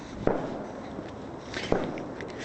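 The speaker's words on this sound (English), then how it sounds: "There's fireworks everywhere tonight." Fireworks going off on bonfire night on a damp evening: two sharp, distant cracks about a second and a half apart over a low outdoor background.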